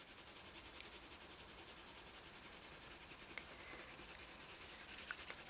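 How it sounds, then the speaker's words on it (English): Pencil lead shading across paper, a soft, steady, rhythmic scratching with back-and-forth strokes, quiet and close with no talking. "it allows you to get the edge of the lead in contact with the paper"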